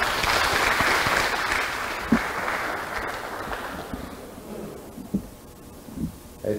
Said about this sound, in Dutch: complimenten aan de heer Harder Ramadeer nogmaals met een applaus.